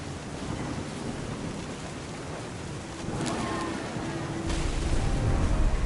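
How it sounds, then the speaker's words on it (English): Thunder and rain in the video game What Remains of Edith Finch: steady rainfall hisses throughout, then a deep thunder rumble rolls in and swells louder near the end, with no voices. "The thunder sounded much too close and full of angry power"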